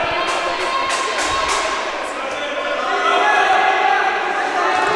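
Handball fans cheer and shout across a sports arena during a match, a dense crowd roar that holds steady for five seconds, with a few thumps early on.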